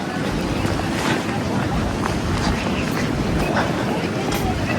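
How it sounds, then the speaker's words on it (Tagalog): Strong wind roars steadily throughout, a dense, continuous rush with gusty swells and buffeting against the microphone, loud and close. "Dahil sa malakas na hangin"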